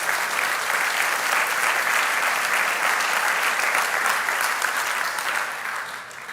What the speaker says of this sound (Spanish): Dale ese fuerte aplauso a Jesús.